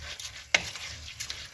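Drained rice is stirred into prawn biryani in a pot with a spoon, giving a few sharp scraping and sloshing strokes close up and no voices.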